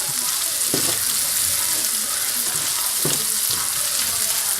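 Shrimp and garlic sizzle steadily in a hot frying pan, a dense continuous crackle with a couple of soft stirring scrapes, close and fairly loud.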